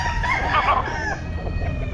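A stag gamecock rooster of Gelmore bloodline crows at a pet market, a single close, strained crow amid background market noise.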